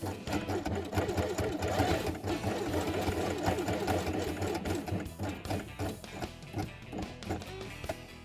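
A sewing machine stitches felt pieces for a western horse quiet book page, a fast, close, rhythmic mechanical rattle running almost continuously before slowing and breaking up near the end.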